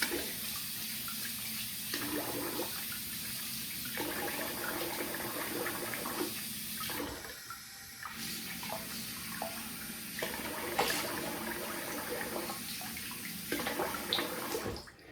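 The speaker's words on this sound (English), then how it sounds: "All right, I'm gonna rinse the face here." A bathroom tap runs steadily while a face is rinsed after a shave, the water's continuous hiss shifting as hands splash and cup it, close and moderately loud throughout, with no talking.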